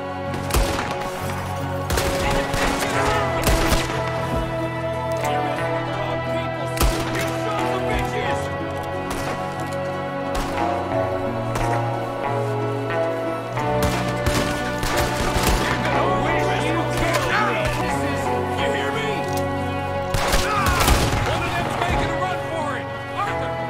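Shootout gunfire from Red Dead Redemption 2 cracks in sharp, repeated shots and bursts over a steady music bed, with voices calling out between the volleys.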